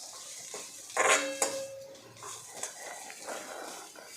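Crushed papad thecha being sautéed in a pan, soft sizzling under scraping spoon-and-pan clatter, louder bursts of stirring near the start, close and fairly quiet.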